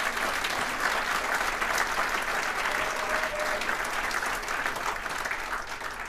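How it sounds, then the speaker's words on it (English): An audience at a political State of the Region event gives a sustained round of applause, with dense even clapping that fills a large hall for about six seconds. "Give them a big round of applause."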